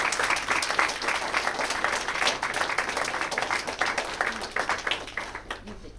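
Guests at a wedding ceremony clap for the newlyweds right after their kiss, a dense, lively round of applause that carries on for several seconds before thinning out, with voices mixed in.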